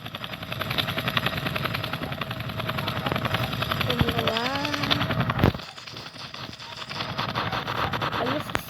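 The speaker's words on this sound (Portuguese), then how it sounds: "Tomara que você saiba dirigir o helicóptero, né?" Roblox video game helicopter, a loud rapid rotor chop and engine drone running steadily, cutting off abruptly near the middle and resuming more quietly, with people talking over it.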